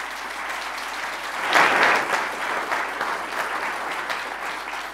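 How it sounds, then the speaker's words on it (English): Conference forum audience giving a round of applause, dense steady clapping that swells early and then continues evenly throughout, fairly close and with no talk over it. "may I ask you to please give a round of applause"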